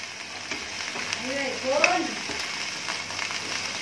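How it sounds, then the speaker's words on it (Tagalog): Chicken sizzles steadily in hot olive oil in a pan, a constant crackling fry at moderate level, with a brief singing voice rising over it midway. "Fry, fry, fry. Fry, fry, fry."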